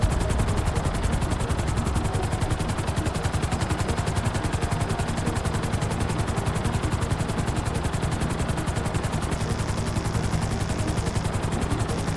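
Helicopter rotor chop from Grand Theft Auto V, a dense steady whir running the full length with rapid bursts of game gunfire layered on top, loud and continuous without pause.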